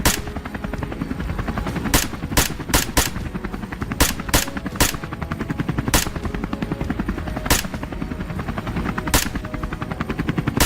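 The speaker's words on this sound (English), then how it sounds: "The helicopter's roar alerts the boars" A helicopter roars low over jungle, its rotor thumping in a fast steady beat with sharp periodic cracks cutting through, loud and close throughout.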